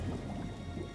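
Dense, steady roar of rushing water with a rain-like hiss, loud and continuous for a moment with no voices over it.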